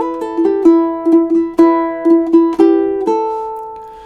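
Ukulele fingerpicked melody for two measures: clear plucked notes in a steady rhythm with ringing sustain over held lower strings, close and moderately loud, the last note left to ring out. No talking.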